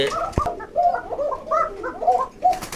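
A caged fancy pigeon coos in a close, repeated run of soft throaty rolling calls, with a short sharp knock early on and a brief rustle at the end.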